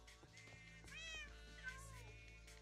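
A cat meows in a Minecraft Cobblemon game, one clear drawn-out meow over a steady low game hum, with a fainter second cry after it.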